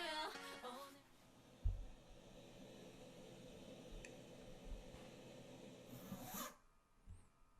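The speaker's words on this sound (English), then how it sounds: "she's zipping up a body bag" A plastic body bag is zipped up in a long, continuous rasping pull lasting several seconds, with a soft thump near the start and a sharp finishing zip before quiet.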